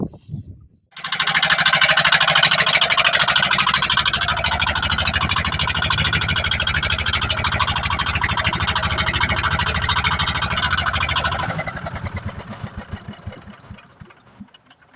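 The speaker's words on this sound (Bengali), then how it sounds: "আমরা এখন মেশিন স্টার্ট দেবো" A fishing boat engine on a river starts with a short cough, then runs loud and steady at a constant chugging idle for around ten seconds before it fades and tails off, with no talk.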